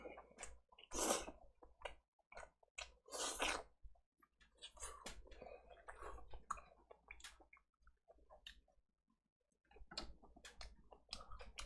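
Soft, close chewing and smacking while eating honey combo chicken and cheesy tteokbokki, with irregular wet bites and squishes spread across the whole stretch and short quiet pauses between them.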